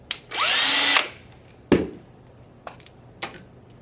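A power drill or driver backs out Phillips head screws during a trigger install on a rifle: one sustained whirring burst about a second long, followed by a sharp clack and a few light tool taps, close and alone.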